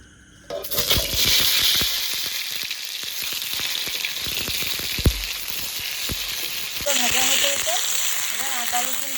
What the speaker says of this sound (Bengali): সেদ্ধ করা আলুটা পেঁয়াজ ভাজার তেলে ভালো করে ভেজে নেবো